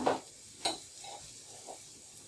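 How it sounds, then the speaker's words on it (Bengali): Loitta dried fish with ground cumin, coriander and ginger paste being stirred in a pan: two brief scraping stirs with a light sizzle, close by, then a quieter hiss and soft clinks. "এবার এগুলো একটু নেড়ে ছেড়ে নেব"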